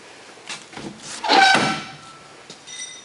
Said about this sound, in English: My rear door opens and closes from the outside.